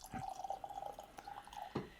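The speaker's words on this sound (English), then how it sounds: "let's pour a little bit into the glass" McConnell's 20-year-old Irish whiskey from the Cromac Collection pours into a glass in a close, steady thin trickle for about two seconds, with a few soft splashy bursts at the start and near the end.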